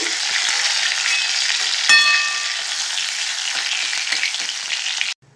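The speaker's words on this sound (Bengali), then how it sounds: "একটা আলু নি কেটে নিয়েছি লম্বা লম্বা করে আলুগুলো ভেজে নিচ্ছি" Long-cut potato pieces sizzle steadily in hot oil in a pan, the oil left from frying rohu fish; the crackle is close and continuous, with a brief sharper spatter near the start, then it cuts off abruptly at the end.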